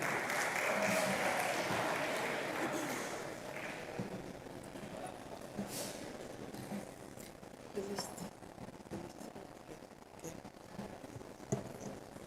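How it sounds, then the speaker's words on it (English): Audience applause at a business school executive programme graduation ceremony, a dense sustained clapping that is loudest at the start and then thins out, with scattered claps and some murmuring continuing beneath. "Please, a round of applause for them."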